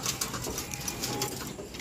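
Pigeons being fed coo softly in a loft, a brief, faint burbling murmur blended into light background noise.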